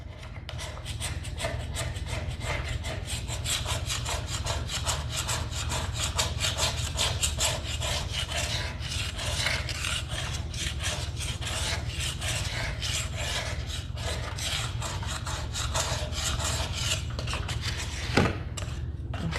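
A scraper works steadily along the grain of a wooden staircase, stripping old finish in continuous close, rasping strokes with one sharper knock near the end.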